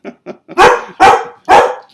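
A dog barks: two short, soft yips followed by three loud, full barks at a steady pace, close by and with no talking.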